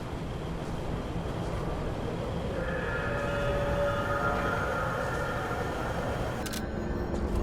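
A tram in the video game Lies of P rolling toward the Barren Swamp station, a steady loud rumble of wheels on rails with a rising mechanical whine and clanks near the end, no voices.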